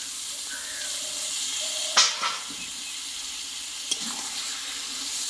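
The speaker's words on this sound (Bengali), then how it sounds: "দিয়ে মশলার সঙ্গে ভালোভাবে কিছুক্ষণ আমি কষতে থাকবো" Mutton sautés with spices in hot oil, giving a steady close sizzle and hiss. A couple of sharp clanks from a stirring utensil break through partway.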